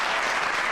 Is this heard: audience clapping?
yes